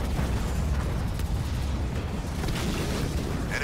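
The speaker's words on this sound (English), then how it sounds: "We've demolished an enemy structure." An enemy structure blowing up in the strategy game Halo Wars 2: a dense, continuous rumbling roar of explosions and battle noise, loud and sustained without a break.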